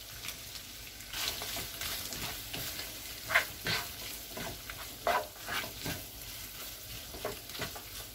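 Fried onions added to a hot pan while cooking saffron shrimp pilaf, with steady sizzling and repeated scraping stir strokes, close and moderately loud, without talk.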